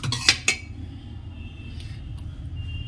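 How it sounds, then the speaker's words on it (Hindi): Utensils clink against a pot as thick kulthi (horse gram) dal is transferred, two sharp metallic knocks early on, then quieter scraping and kitchen background. "अब सारे दाल को हम एक बर्तन में निकाल लेते हैं।"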